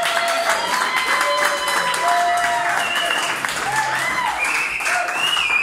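An audience at a motorcycle launch event for the Kawasaki Z900RS Cafe in Australia gives a loud, sustained round of applause, with some whoops and vocal sounds mixed into the clapping throughout.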